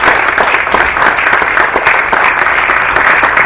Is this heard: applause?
yes